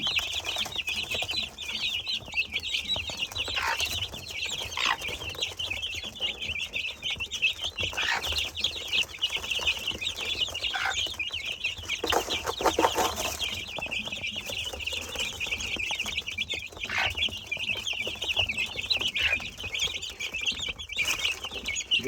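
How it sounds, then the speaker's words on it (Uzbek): Soft clucking of a hen and high chirping of fourteen chicks in a farmyard, continuous and fairly steady, with no talking. "14 ta jo'ja boqib yuribdi."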